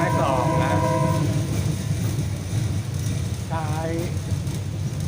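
A train on the Ban Laem line in Thailand, heading toward Mae Klong, rumbles steadily along the tracks with a low continuous roar, and a horn sounds twice, once near the start and again near the end.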